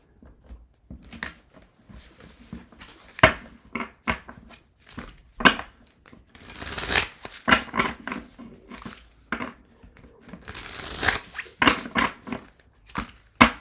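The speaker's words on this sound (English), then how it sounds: "One last shuffly shuffle" Tarot cards shuffled by hand in a series of irregular papery riffles and slaps, close and fairly loud, with a few sharper thumps of the deck against a surface between bursts.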